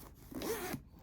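A zipper on a Dooney & Bourke bucket-style hybrid purse gives one short, close zip pull, quiet and clear with no voices.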